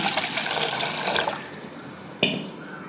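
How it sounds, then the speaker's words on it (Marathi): Water being stirred into tamarind paste gives a steady wet sloshing and trickling that stays close and continuous, easing off midway before a brief sharper splash near the end. "तर पाणी मिक्स करून घेत आहे मी"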